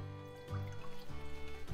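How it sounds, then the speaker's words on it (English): A jalapeno plant swished gently through water to dislodge aphids, producing soft, rhythmic sloshing and swirling pulses, close and quiet. "Just gently swoosh it around in the water."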